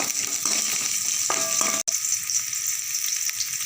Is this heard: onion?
yes